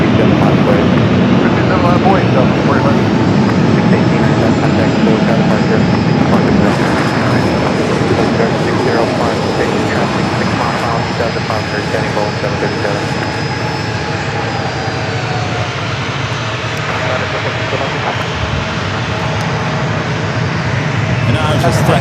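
An Airbus A350 jet going around at San Diego airport roars steadily overhead for the whole stretch, a loud sustained engine wash with a whining tone on top, while a voice talks over it.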